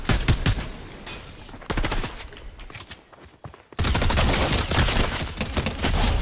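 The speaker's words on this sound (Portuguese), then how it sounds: "E tem um outro cara atirando agora." Gunfire from another player in Fortnite, rapid bursts of shots in a dense rattle, loud and near, dropping briefly before resuming harder, no voices.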